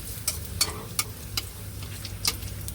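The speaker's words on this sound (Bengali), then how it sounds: "পাঁপড়গুলো এবারে ভেজে নেব। এরকম ছাঁকা তেলে উল্টে পাল্টে ভেজে নেবেন।" Papad pieces frying in hot, deep oil in a wok, turned over and over: a low, soft sizzle punctuated by several sharp, quick scrapes and clicks of a utensil at irregular intervals.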